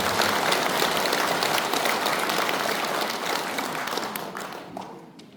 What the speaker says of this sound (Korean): 찬탄의 박수 한번 부탁드리겠습니다